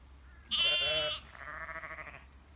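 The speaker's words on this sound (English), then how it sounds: "Bit of lost and found sheep still." Sheep in the countryside beside the River Bollin valley near Wilmslow, one loud close bleat followed by a softer, longer answering bleat, with light outdoor background noise.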